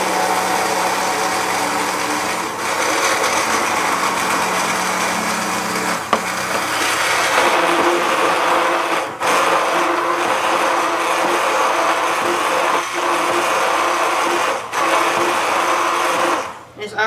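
An immersion blender whirs steadily at low speed while mixing mayonnaise in a jar, a continuous close motor hum with occasional clicks and knocks against the glass, and a voice talking over it.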